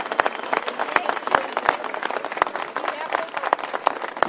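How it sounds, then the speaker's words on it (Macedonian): An audience in a hall breaks into applause after a political speech, with sharp, uneven claps in a sustained patter and a murmur of voices underneath. "ние ќе ги поздравиме со аплауз"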